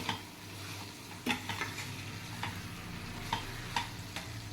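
Chettinad chicken is stirred as it fries in a pan, a steady sizzle running underneath while a spoon scrapes and taps the pan every second or so.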